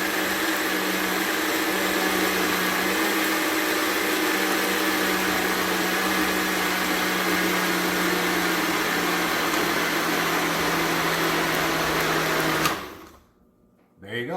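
A blender whirs loudly and steadily for about twelve seconds while blending a green tea smoothie, then cuts off abruptly into near silence.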